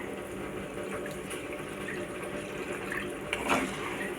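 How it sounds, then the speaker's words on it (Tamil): Mutton cooking water is poured into a pan for Chettinad mutton sukka, giving a steady, soft liquid splash at close range with no talking. "நம்ம மட்டன் வேக வச்சு கொஞ்சம் தண்ணி இருந்ததில்ல அந்த தண்ணியை நான் இது கூட சேர்த்துக்கிறேன்"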